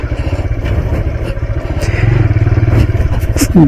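A motorcycle rides off-road along a track beside a railway line, its engine a steady, close, loud drone that rises slightly toward the end, with some clattering from the rough ground.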